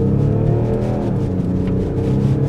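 A 2025 BMW X6 drives over a bumpy, broken road, heard from inside the cabin as a steady, loud low rumble of engine and tyres with faint thumps from the uneven surface.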